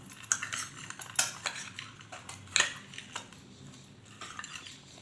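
A spoon stirring a peanut salad in a bowl: repeated clinks and scrapes of metal against the dish in an uneven rhythm, close and fairly clear, with no voices.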